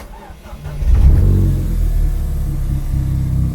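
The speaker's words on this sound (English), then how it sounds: "So just gonna start the car now." A turbocharged track car fitted with cooling modifications makes a cold start: a brief crank catches into a loud, close engine roar that rises on a short rev and then settles into a steady, rumbling idle.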